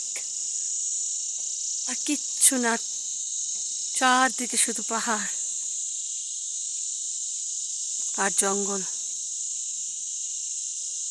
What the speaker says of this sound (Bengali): আর শুধু ঝিঝি পোকার ডাক